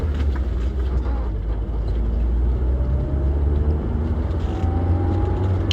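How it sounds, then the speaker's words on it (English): Steady low engine and road drone from inside a moving car, an even, continuous rumble with faint higher whine, no voices. "And I'm just driving around."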